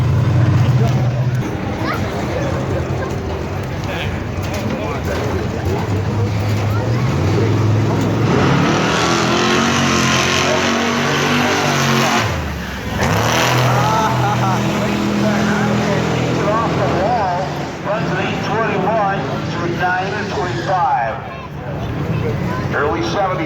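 Nissan 370Z at a drag strip launching from the right lane, a loud continuous engine roar building and sustained across the run, with other race cars and an announcer talking throughout over the noise.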